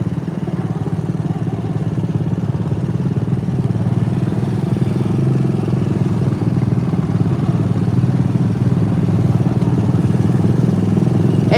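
A John Deere riding lawn mower engine runs rough on one cylinder, a steady, loud, close uneven chugging drone with clattering that holds throughout.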